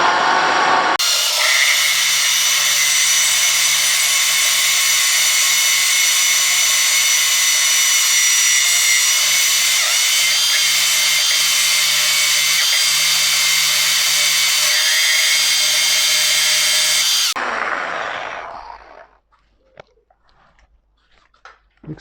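A power drill bores a hole through aquarium glass with a loud, continuous high-pitched grinding whine that holds steady for about sixteen seconds, then cuts off abruptly and winds down into near silence.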